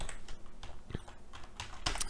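A command typed on a computer keyboard, a quick run of soft, close key clicks with no voice over them.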